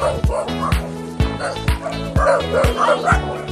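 Several dogs bark and yip repeatedly, close by, in an uneven rhythm with some whimpering mixed in.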